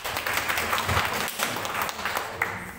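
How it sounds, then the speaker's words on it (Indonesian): A church congregation at an Indonesian Baptist Sunday service applauds steadily to welcome a guest. The clapping is dense and even throughout, with faint voices underneath. "Tepuk tangan buat Cik Asi."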